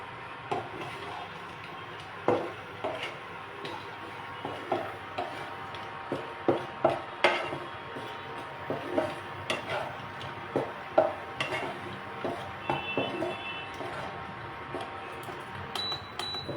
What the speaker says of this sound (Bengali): আমি কাজু কিশমিশটাকে ভালো করে ভেজে নিয়ে তুলে নেব।